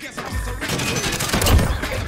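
Dense gunfire from a Call of Duty Modern Warfare (2019) Search and Destroy match, including a shotgun, with loud overlapping shots and booming low thumps filling the whole moment, no speech.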